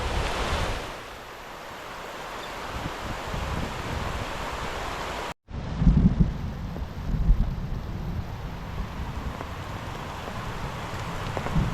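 Heavy rain pours beside a river and the sea, a dense steady roar of falling water with wind buffeting, broken by a sudden momentary dropout before the downpour resumes slightly louder.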